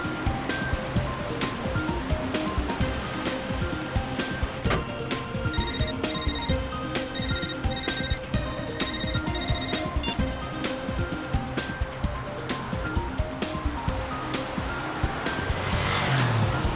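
A mobile phone ringtone repeats in short electronic melodic bursts. It plays at moderate volume over a steady wash of background noise, with no voices.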